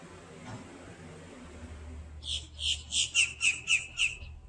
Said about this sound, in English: Yeah, bird.